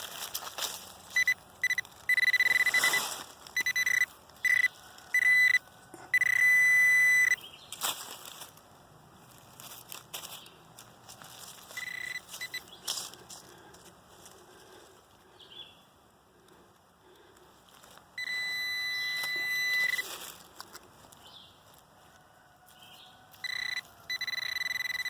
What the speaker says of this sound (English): I checked it with the metal detector.